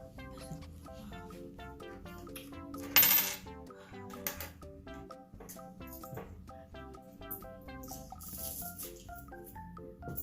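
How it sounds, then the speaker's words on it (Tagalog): Many coins clink and rattle together, a hoarded pile of savings, with steady metallic chinks throughout and a louder jangling burst partway through. "Daming mga barya ni Inday."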